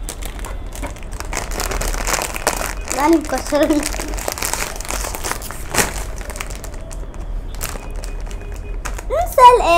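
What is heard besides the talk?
gift bag being opened, plastic crinkling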